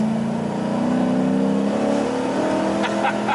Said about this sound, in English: that sounds like mufflers